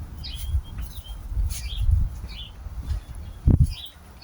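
A pigeon trapped inside a combine harvester gives faint, scattered chirps and calls, with a few soft thumps and a sharp knock near the end, in a quiet enclosed space.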